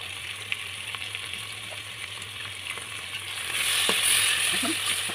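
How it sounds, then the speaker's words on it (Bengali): Ginger and garlic paste frying in a pan while cooking pea pulao, giving a steady close sizzle that swells louder near the end, with a few faint utensil clicks and a low hum underneath. "এখানে দিয়ে দিচ্ছি একটু রসুন বাটা"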